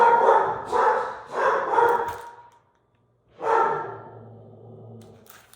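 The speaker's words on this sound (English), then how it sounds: "My dogs decided to go nuts about someone in the driveway." Several household dogs bark excitedly at someone in the driveway, a few close, loud bursts of barking separated by a short pause, with a low whine underneath at the end.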